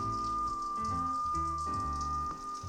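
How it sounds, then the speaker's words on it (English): Pouring rain falls outside, a steady broadband hiss heard indoors at moderate distance, continuous for the whole stretch with no talking. "you might hear some background rain because it's pouring out right now."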